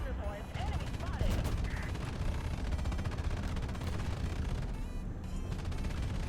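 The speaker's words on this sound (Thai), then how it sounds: "งั้นเอาปืนใหญ่ลงเลย" Artillery fire and gunfire in the War Thunder tank video game, heavy booms and dense bursts rumbling continuously in the background while someone talks over the battle.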